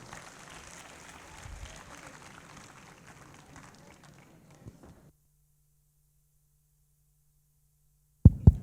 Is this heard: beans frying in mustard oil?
no